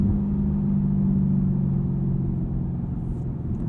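A 6.2 liter V8 car engine holds a loud, steady, deep rumble close by, with a slight rise and fall in pitch and no speech.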